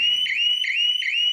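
A shop shutter anti-theft alarm sounds loud and near, a high electronic tone pulsing in three repeated warbling bursts over a steady beep, with no other sound.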